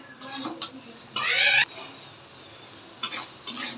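Onions and mung dal fry together in a pan, giving a soft sizzle with short bursts of louder stirring and scraping, one stronger burst in the middle, heard fairly close and quiet overall.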